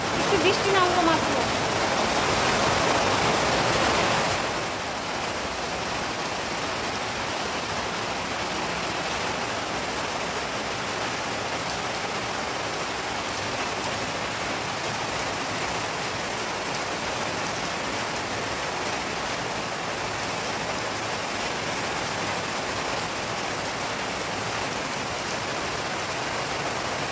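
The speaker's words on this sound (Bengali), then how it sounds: "একটু বৃষ্টি নামলো মাত্র।" Light rain falls as a steady, even hiss throughout, a little louder for the first few seconds and then settling into a constant soft wash.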